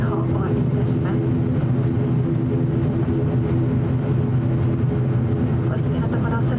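Inside the cabin of an ATR42-600 turboprop of Japan Air Commuter after landing, a loud, steady low engine drone and rumble fills the space, with a cabin announcement spoken over it.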